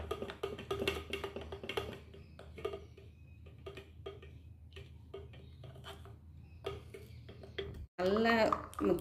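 A spoon stirs melted homemade chocolate in a bowl, giving quiet, irregular clinks and scrapes with soft voices in the background, then a louder burst of clattering at the end.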